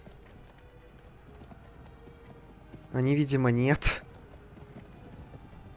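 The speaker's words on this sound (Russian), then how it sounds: "Я могу лошадь вызвать." A summoned horse in the video game Blood of Steel gallops with quiet, steady hoofbeats, and someone speaks briefly over it partway through.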